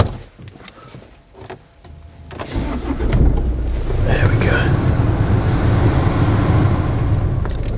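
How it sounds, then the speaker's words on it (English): Keyless push-button start of a used Range Rover Evoque with a manual gearbox, heard from inside the car: a quiet cabin with faint rustling gives way to the engine cranking and catching, then a steady idle rumble. "put your foot down on the clutch and press the start button."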